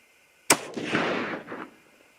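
A single .308 Winchester rifle shot firing a Hornady 150-grain BTSP load with BL-C(2) powder, a sharp loud crack followed by a long rolling echo that fades over about a second; no voices.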